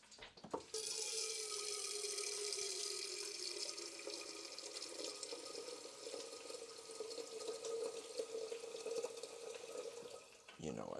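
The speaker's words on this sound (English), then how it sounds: "Get more water going in this thing." Water gushes steadily from a kitchen tap into a pot of beans being prepped for refried beans, a loud, continuous splashing flow that starts abruptly and runs for about ten seconds before cutting off, close and alone.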